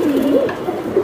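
A pigeon at a busy pigeon market gives a close, clear coo, a single rolling warble over a steady bed of crowd noise.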